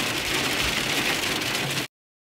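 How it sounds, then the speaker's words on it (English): Dense, steady drumming of hail pelting a car's roof and windows, loud and continuous from inside, then stopping abruptly. "This is literally hailstone."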